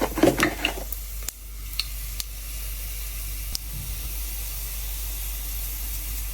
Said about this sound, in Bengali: গরম হয়ে গেছে, আমি দিলাইমু সব জাত গরম মশলা